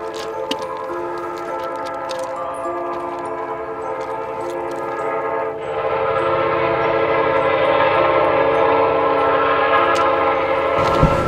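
A train rumbles past nearby with a steady, loud roar and sustained tonal horn-like hum, growing slightly louder midway through.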